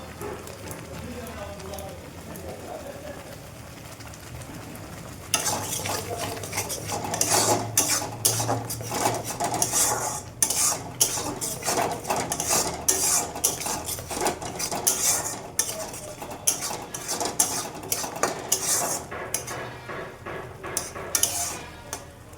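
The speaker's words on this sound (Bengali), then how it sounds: "এখন কষিয়ে নেব।" Spice paste with ground cumin is stirred and fried in a pan for a papda fish curry. It starts after a quiet opening, then continues as close, busy scraping and clinking of a spoon against the pan.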